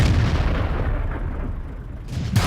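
Tank cannon fire in a World War II tank video game, striking a KV-1 heavy tank: heavy, rumbling booming blasts filling the whole span, with a sharper burst at the very end.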